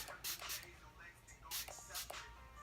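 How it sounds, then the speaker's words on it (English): A few short hissing bursts of Fix Plus setting spray, in two quick pairs, close and fairly soft against a quiet background. "I'm going to be spraying it with my Fix Plus"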